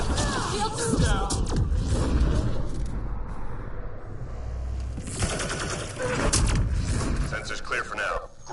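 Gunfire in the game Mass Effect Andromeda, with dense rattling bursts, crashes and booming impacts of a chaotic firefight, and voices speaking over the shooting.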